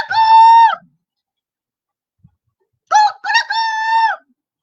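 A rooster crows loudly and close by, one call and then a longer two-part crow after a pause of silence.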